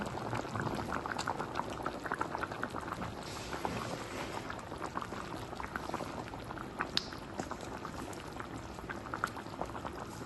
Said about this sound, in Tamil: நல்லா கொதிக்குது இப்போ புளி வந்து ஊற்றுனதுனால நல்லா கொதிக்கணும்